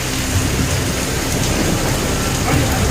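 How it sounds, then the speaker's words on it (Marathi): Heavy mountain rain pours steadily near a hilltop temple at Visapur, a dense, loud wash of noise with no breaks, like a downpour drumming close by. "एकदम जोराचा पाऊस आहे"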